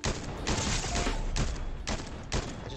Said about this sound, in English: Got sniped at though.